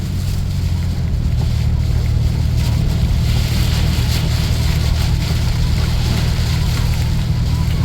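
Strong storm wind roars steadily against a 1990 Dodge Grand Caravan LE while driving, a dense, continuous rushing buffet with low engine and road rumble underneath, loud and unbroken throughout.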